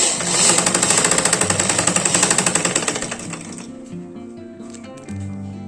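A sewing machine stitches gold lace onto a blouse neckline in a fast, even mechanical rattle that runs for about three seconds and then slows into quieter whirring and clicks.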